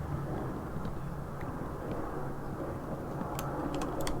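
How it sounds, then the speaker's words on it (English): A low, distant roar of military jets rumbles steadily overhead, faint and continuous, with a few small clicks near the end. "It sounds like military jets doing some practice scrambles or something."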